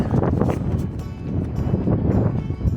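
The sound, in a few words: wind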